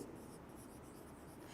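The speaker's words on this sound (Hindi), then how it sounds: "तो हम लिखते हैं" Continuous soft scratching of writing on a board, a steady faint hiss without breaks, close by.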